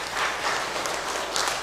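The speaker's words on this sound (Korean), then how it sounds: "2층에 계시는데 우리 박수로 한번 환영하겠습니다" A church congregation at a Sunday worship service claps in welcome, a brief burst of dense, even applause filling the sanctuary for under two seconds.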